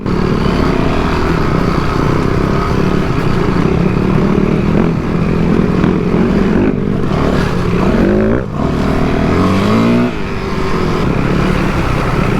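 An enduro motorcycle is ridden slowly in first gear, its engine droning loud and continuous up close, with brief rises and falls in pitch as the throttle changes.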